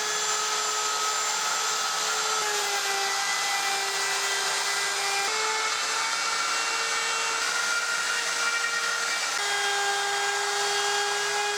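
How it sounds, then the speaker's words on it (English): A router trims the edge of a laminate countertop piece in a vintage Shasta camper trailer under restoration, a loud, steady high-pitched whine that runs continuously throughout. "Now it's time to break out the router and do some trimming."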